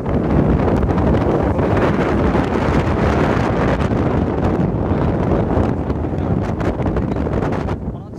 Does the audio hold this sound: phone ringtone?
no